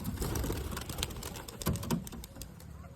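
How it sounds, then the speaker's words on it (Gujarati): Domestic pigeons coo near a loft, low soft throaty calls repeating in a loose rhythm close by, mixed with light rustling and faint bird chatter. "આપણું જૂનું કબૂતર આવ્યું હોય એવું લાગે"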